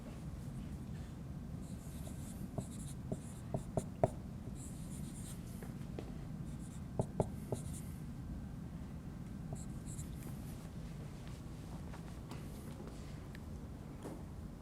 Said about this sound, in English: Watch the way I write this